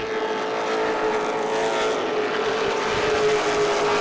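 Late model race cars lap Irwindale Speedway in a steady, droning engine roar that holds at an even loudness throughout, with no clear pass-by peak.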